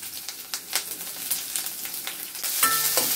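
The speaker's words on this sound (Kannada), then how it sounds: "ಇದನ್ನೆಲ್ಲ ಸ್ವಲ್ಪ ಬಾಡಿಸೋಣ ನಾವೀಗ" Crushed garlic and chopped green chillies sizzling in a pan for tamarind chutney, a steady close crackle with repeated stirring scrapes, growing louder and denser near the end.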